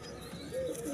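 Young dominant opal pigeon giving a soft, low coo that rises into a short tonal note near the end, faint and close, against a quiet background.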